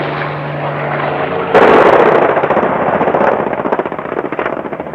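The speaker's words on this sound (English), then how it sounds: "American planes are bombing only a few hundred yards outside the town." American aircraft bombing on the outskirts of a town during a wartime siege in Vietnam: a loud burst of explosions and rapid rumbling fire erupts after a steady drone, then rolls on in dense, crackling waves.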